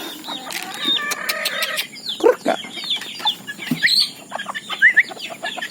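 Chickens cluck and chirp around a backyard coop where native fowl are kept, several birds calling in overlapping bursts at close range, with no talk.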